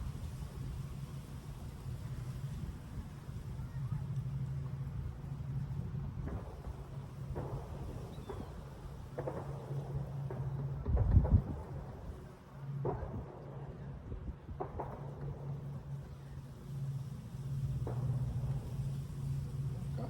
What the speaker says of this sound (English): This wind doesn't keep blowing it out on me.